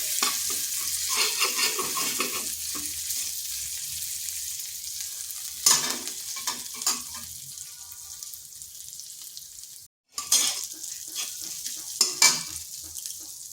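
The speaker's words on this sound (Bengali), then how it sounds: "আদাটাকে একটু ভেজে নিচ্ছি যাতে তার কাঁচা গন্ধটা চলে যায়।" Ginger frying in oil with turmeric in a pan, heard as a close, steady sizzle broken by repeated scraping stirs and a brief cut near the end, with no speech.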